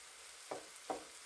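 Two brief scraping stirs of scrambled eggs over sautéed tomatoes and scallions in a pan, each a short soft swish, with faint sizzling and quiet gaps between.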